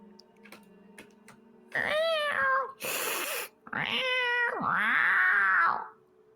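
Several cats meow and yowl in long, drawn-out cries as a sound effect in a Lovecraftian tabletop role-playing story, loud and close, with a burst of hiss-like noise between calls and faint ticking beneath.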